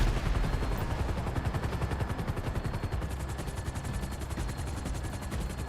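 Dense, continuous gunfire from enemies in GTA 5 Online, rapid overlapping automatic bursts with heavy low-end thumps, loud and sustained throughout with no talking.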